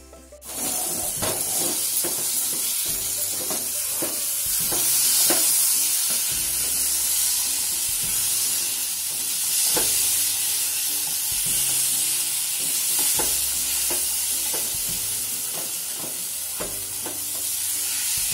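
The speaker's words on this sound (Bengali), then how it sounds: "এবার ভাজা ভাজা হচ্ছে, আর 2 মিনিট পরে নামিয়ে নেব।" A pea mixture with asafoetida, for green pea kachuri filling, hisses and sizzles steadily in a pan while a spatula scrapes and stirs it in repeated strokes, close and alone without talk.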